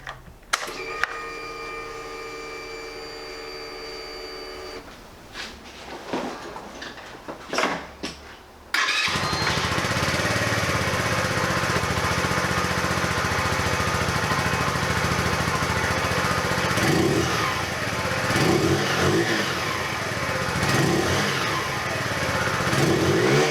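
A 2018 Keeway RKS 125 street commuter motorcycle is cranked and fires up, then idles loudly up close with a raspy exhaust note and several short blips of revs toward the end.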